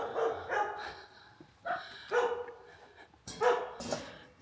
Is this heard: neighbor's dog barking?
yes